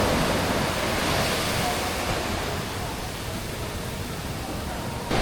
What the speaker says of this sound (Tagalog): Grabe ka kusog ang impact sa iyang balud.